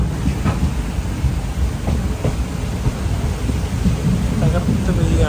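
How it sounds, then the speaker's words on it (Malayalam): Heavy rain pours with thunder outside a train running from Ernakulam to Velankanni near Kottarakkara, a dense, steady roar that holds level throughout with low rumbling underneath. "മഴ, നേരത്തെ പറഞ്ഞ പോലെ തന്നെ മഴയും കിട്ടി."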